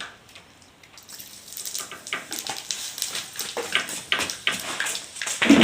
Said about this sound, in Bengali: গরম তেলে পাঁচফোড়নটা সুন্দরভাবে ফুটানো হয়ে গেছে